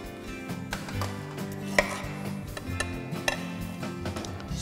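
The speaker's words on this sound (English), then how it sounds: "Unmold the custard after tapping it." A steamed seafood custard in its mold gets tapped to unmold it onto a soup plate. Sharp, distinct clicks and taps come at irregular intervals over a low background hum, and nobody speaks.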